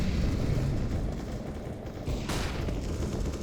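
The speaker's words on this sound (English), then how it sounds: "Incendiary out. Throwing fire." An incendiary grenade bursting into fire in Counter-Strike: Global Offensive, a dense roaring crackle that rumbles throughout, with a sharper whoosh flaring midway.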